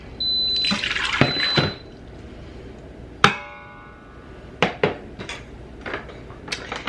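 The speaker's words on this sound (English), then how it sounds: "I'm gonna do 2 cups of our fresh milk" Fresh milk poured into an Instant Pot set to sauté, a brief steady pour followed by a sharp clink and several lighter taps of utensils against the pot, close and fairly quiet with no talk.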